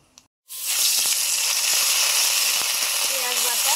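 Nigella seeds, kalo jeere, hit hot mustard oil with a sudden loud burst of sizzling that stays steady and crackling for about three seconds, close up, after a brief quiet moment.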